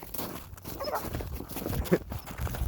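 A dog on a woods walk gives short barks and whimpers close by, mixed with rustling outdoor noise.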